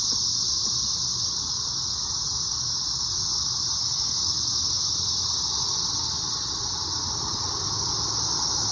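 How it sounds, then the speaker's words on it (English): Cicadas drone in woods near Rossville, Georgia, a loud, unbroken high-pitched buzzing chorus that holds steady throughout with a faint low rumble beneath. "here's the sound of cicadas in these woods"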